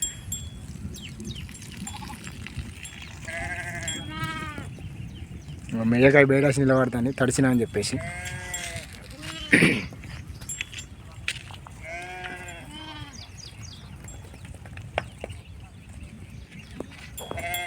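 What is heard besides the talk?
sheep bleating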